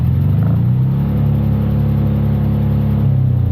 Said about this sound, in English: Let's have a listen to the Piaggio revving.